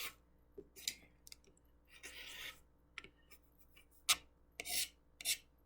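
Rotary cutter slicing through quilt fabric for a pine tree banner block, heard as a few short, sharp scraping strokes with quiet pauses and small handling clicks between them, close and fairly soft.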